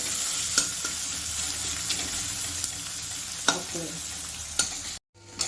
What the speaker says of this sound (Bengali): এইবার পেঁয়াজ কুচিটা পেঁয়াজটা একটু ভাজতে দেবো